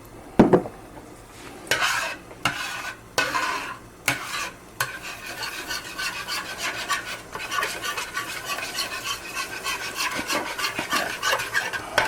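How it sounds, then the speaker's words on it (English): A spoon scrapes and stirs chicken stock into a roux in a pan, smoothing out lumps with repeated rasping strokes, a few sharp knocks early on, then steady quick rubbing. "Just stir it around until it's nice and smooth and you got the lumps out of it"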